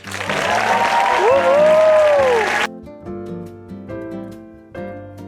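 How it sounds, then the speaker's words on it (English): A dense round of applause fills a Creative Mornings gathering in New York, cheering the event's first patrons, with a whistle rising over the crowd before it cuts off abruptly and gentle music takes over. "biggest round of applause Creative Mornings has ever seen for our first ever patron, Ruth and Harnish"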